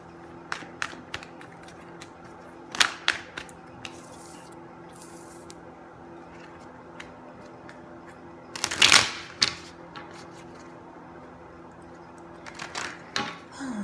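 Tarot cards are shuffled up close in a quiet room, with soft repeated riffling and rubbing and a few louder bursts of cards snapping together.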